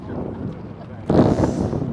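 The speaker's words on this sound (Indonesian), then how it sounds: "Anginnya yang nggak enak nih, anginnya nih" Gusty outdoor wind buffets a microphone on a cold, wet day near a motorcycle racing circuit in Australia, with a sudden louder blast about halfway through that rumbles on to the end while people talk nearby.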